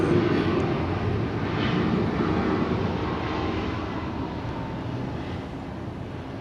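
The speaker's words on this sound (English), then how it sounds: "United 2249 just touched down from it, or Chicago O'Hare" A United Airlines jet touching down at Atlanta airport, its engines giving a loud, steady broadband roar that holds for the whole stretch and fades slightly toward the end, with no voices over it.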